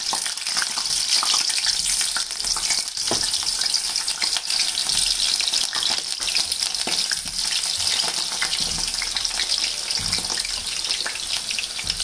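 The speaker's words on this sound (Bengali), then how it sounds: "এবার আলুগুলো ভেজে নেবো।" Potatoes frying in hot oil, a steady dense sizzle with crackling and the occasional clink of stirring, continuous and fairly close, with no talking.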